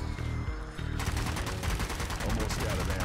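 Rapid bursts of gunfire and heavy booms from an artillery strike in the Zombie Army 4 video game, loud and continuous, a sustained barrage of dense shots throughout.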